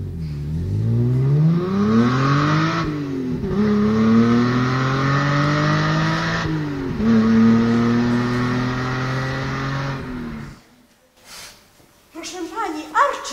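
An old car engine revs and accelerates away, its pitch rising and falling through gear shifts over about ten seconds, then cutting off. Brief faint voices follow.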